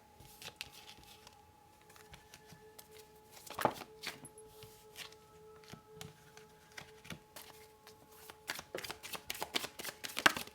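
A deck of tarot cards is shuffled up close, with soft riffling bursts and flutters scattered across a quiet background that grow quicker and denser toward the end.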